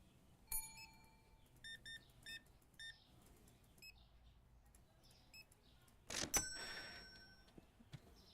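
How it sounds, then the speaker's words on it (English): Cashier Boris scanning groceries at a checkout in Supermarket Simulator, a series of short electronic beeps in small clusters against quiet background, with a louder rustling burst near the end. "now you can maybe hear Boris's beeping"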